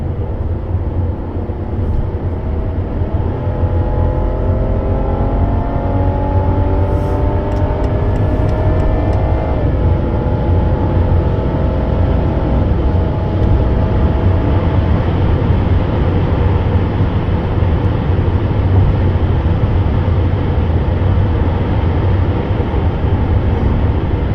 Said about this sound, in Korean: 약간 오르막인데 스포츠 모드로 한번 달려볼게요.